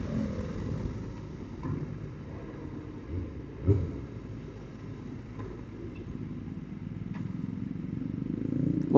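Kawasaki Ninja ZX motorcycle engine warming up on a quiet Jakarta street, a steady low idle rumble with occasional light clatter and a rising rev near the end, fairly close and alone without talk.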